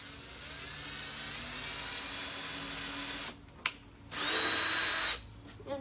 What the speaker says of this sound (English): And then reverse the drill and come back out.